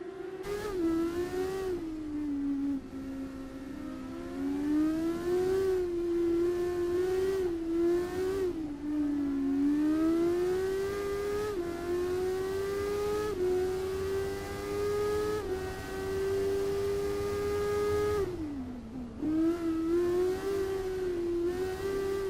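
Formula Student race car lapping the Barcelona circuit in the video game Assetto Corsa, heard onboard: a loud, high-revving engine climbing through gears with repeated upshifts and short drops, with a deeper dip as it brakes late on, no talk.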